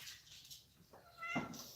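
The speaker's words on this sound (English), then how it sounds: "my cat is now climbing across the table" A domestic cat meows once near the end, a short clear call rising out of quiet room noise after a brief faint sound earlier, while the cat climbs across a table indoors.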